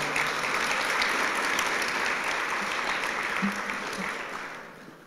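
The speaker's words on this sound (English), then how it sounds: "How about a big round of applause for LA?" A round of applause from the crowd at a service dog class graduation ceremony, a sustained even wash of clapping that slowly tapers off, with a faint voice near the end.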